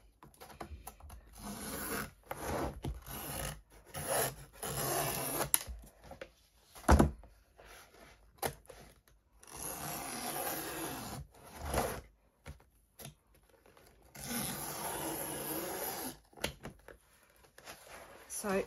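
Craft knife scraping and cutting along the edge of a canvas to free it from its wooden frame, with irregular close rasping strokes and brief pauses.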